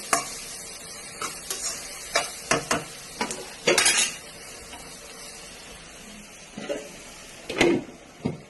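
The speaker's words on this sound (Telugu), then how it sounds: "వేసి బాగా కలుపుకొని లో ఫ్లేమ్లో ఒక 5 మినిట్స్ ఉంచితే సరిపోతుందండి" Curry cooking in a pan on a low flame, with a spoon stirring and scraping against the pan in irregular bursts over a faint steady sizzle, no voices.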